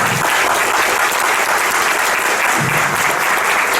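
A lecture-hall audience at a university author talk gives a steady burst of applause, many hands clapping densely and continuously at close range, alone without voices.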